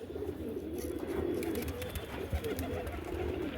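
Soft, low cooing of pigeons kept for sale murmurs steadily in the background, with occasional faint bird calls and light rustling.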